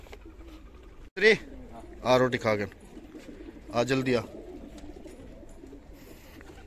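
Pigeons coo several times close by while being fed roti, their soft bursts coming in short groups between a woman calling to them.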